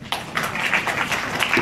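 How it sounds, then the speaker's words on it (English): Audience applause at a college forum, a short burst of many hands clapping together in a dense, steady patter. "So please give yourselves a round of applause."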